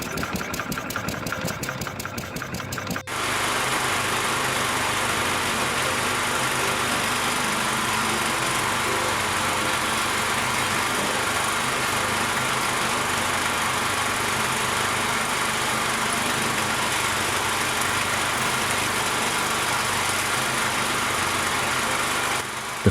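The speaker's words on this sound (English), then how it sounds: "the operator simply feeds a heavy log into the steel tip" Cone log splitter engine running steadily while splitting logs, a continuous loud mechanical drone that starts abruptly after a few seconds and holds unchanged to the end.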